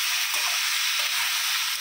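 Ridge gourd with poppy seeds frying with onion in a pan, a steady close sizzle and crackle running throughout with no talk.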